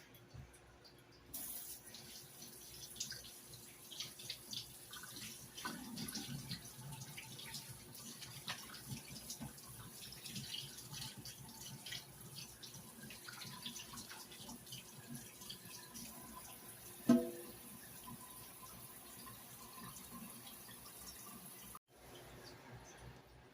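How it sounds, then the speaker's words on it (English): Hands washed under a running kitchen tap at the sink while making buttermilk sausage biscuits: a steady, fairly faint stream of water runs throughout, with a brief clink near the end and no talking. "let me wash my hands."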